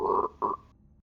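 A human voice imitates a croak: two short, rough, throaty bursts close together, near and fairly loud, trailing off into silence.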